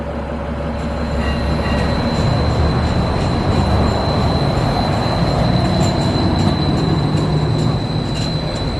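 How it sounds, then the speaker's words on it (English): A Seattle streetcar arrives with loud, steady rumbling and rail noise plus a thin high squeal from the wheels, filling the whole stretch without any voices. "And here comes my streetcar."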